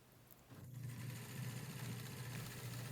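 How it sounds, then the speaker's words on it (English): A sewing machine stitches a fitted upholstery slip cover, running steadily with a fast even stitching hum that starts after a brief quiet moment and continues close and clear to the end. "I'm going to take that up to my sewing machine."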